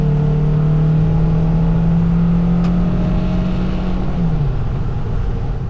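A car cruises steadily along a wet, rainy Portland highway, with a constant loud road and tire roar and a low engine hum throughout; no one speaks.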